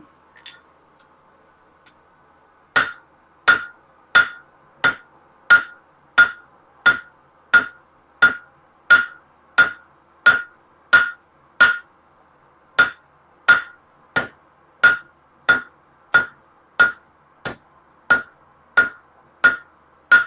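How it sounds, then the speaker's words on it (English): Steady hammer blows ring on steel at a blacksmith's anvil, about twenty-five sharp metallic strikes in an even rhythm, loud and close, with no talk. "we're gonna come over here to the flat of the anvil and kind of straighten this out a little bit"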